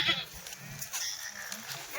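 Several young goats bleat nearby in short, overlapping calls amid a livestock market for milking animals, with a faint murmur of people.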